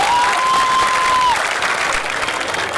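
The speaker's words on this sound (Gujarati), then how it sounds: "તાળીઓનો ગડગડાટ થઈ જાય." A crowd applauds at a Goga Maharaj aarti in Ahmedabad, dense loud clapping sustained throughout, with a thin tonal whistle-like sound briefly above it.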